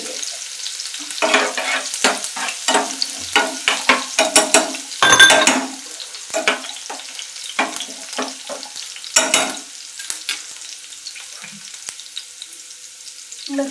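Garlic frying with green chilies in a hot pan, close crackling sizzle with bursts of stirring and scraping of the spatula against the pan at an irregular pace.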